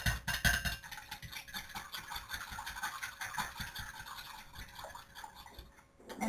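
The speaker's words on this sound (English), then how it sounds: "I'm just going to give this a quick stir with a fork." Quick clinking and scraping of a fork stirring softened banana and apple in a bowl for a muffin batter, close and rhythmic, with a brighter clatter at the start and a faint steady hum beneath.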